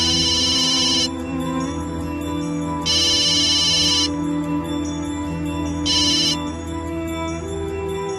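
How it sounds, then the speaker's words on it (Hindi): A phone ringtone plays in repeated bursts, a bright melodic ring sounding three times over a steady background hum, with no talking. "अली, कुज़े का फोन है।"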